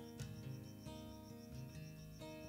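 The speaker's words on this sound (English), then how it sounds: "Do you hear the cricket?" A cricket on a porch in daylight chirps steadily in soft, evenly spaced pulses, faint and distant against a hum of other background tones.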